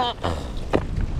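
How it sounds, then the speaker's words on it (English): Gusty outdoor wind on a warm, windy March day while houseplants are repotted outside, heard as a steady, close, low buffeting rumble across the microphone through the whole short stretch. "that's how bad the wind is"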